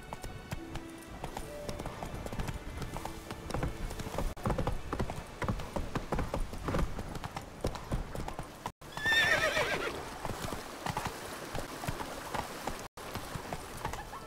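A horse gallops in The Witcher 3 video game, its rapid hoofbeats drumming continuously over ambient game sound, with a sharp neigh breaking in around the ninth second.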